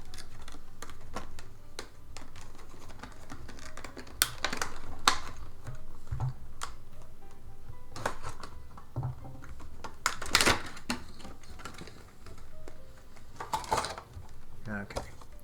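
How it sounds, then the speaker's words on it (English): A Calvin's Puzzle Ahsoka Megaminx puzzle ball is taken out of its box: scattered clicks, taps and light plastic and cardboard rustling come in irregular bursts, some sharper knocks standing out close to the mic. "let's get this out of the box."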